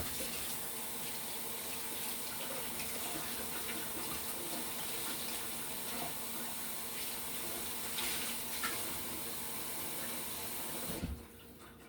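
Kitchen tap water runs steadily into a sink to dampen a towel while cleaning up after baking strawberry muffins, a continuous close hiss that stops abruptly near the end.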